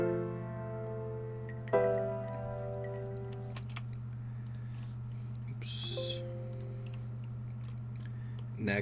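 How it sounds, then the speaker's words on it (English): Piano chords with added low bass notes filling out the lower end, from a simple trumpet beat, playing sustained and alone with new chord strikes at intervals. "Next is this piano."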